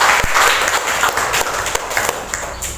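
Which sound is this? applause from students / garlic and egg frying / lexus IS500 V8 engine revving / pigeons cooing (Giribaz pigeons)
applause from students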